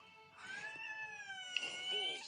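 Pet cat meowing indoors, one drawn-out whining meow followed by a shorter second cry, fairly faint and close.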